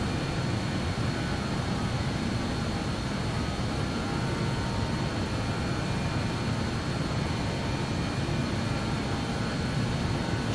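BAe 146 jet engines accelerate in a flight simulator game, producing a continuous, even roar at moderate loudness with a faint whine and no speech over it.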